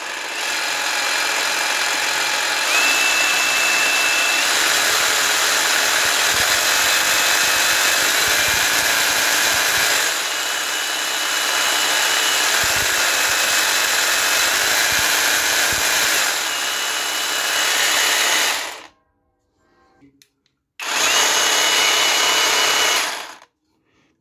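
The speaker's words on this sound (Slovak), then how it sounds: "ja si teda pílu zapnem a poďme si odskúšať jej hlučnosť. Takže to je rýchlosť 1" Parkside Performance PSSPA 20-Li A1 cordless jigsaw running at its lowest speed setting, a loud, steady mechanical whine with buzzing that holds for about eighteen seconds, then cuts off and briefly starts up again.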